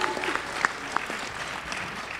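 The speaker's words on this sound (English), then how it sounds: "Final applause for all of our lovely panelists" A convention crowd applauds the panelists at the close of a BronyCon art panel, a steady wash of clapping with a few sharper claps and faint voices mixed in.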